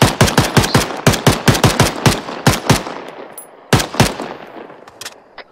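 Gunfire in Arma 3, with a sniper nearby: loud, sharp shots in quick rhythmic bursts with echoing tails, slowing to a few isolated cracks near the end, no voices.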